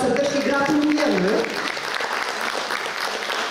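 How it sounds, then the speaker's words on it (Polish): Warm applause from an audience at a poetry and literary session of a cultural festival, steady and full throughout, with a brief voice heard over it at the start. "Gorące brawa jeszcze raz serdecznie."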